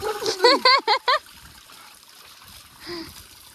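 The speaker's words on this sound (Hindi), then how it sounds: "चलो ठंडे पानी से नहाना चाहिए" Cold water pours and splashes over a person taking a bath, a soft trickle running beneath a brief burst of voice at the start and continuing more quietly afterward.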